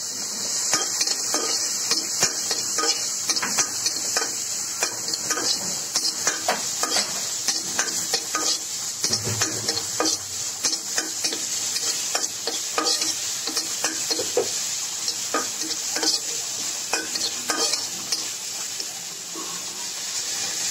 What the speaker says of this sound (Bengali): এইবার পেঁয়াজ কুচি, 2-3টা কাঁচামরিচ, 2-3টা শুকনো মরিচ ও 2টা তেজপাতা দিয়ে নাড়তে থাকব।